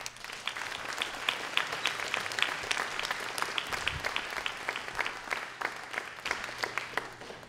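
A crowd at a farmworker justice event applauding panelists steadily for several seconds, dense clapping at an even level with no voices over it.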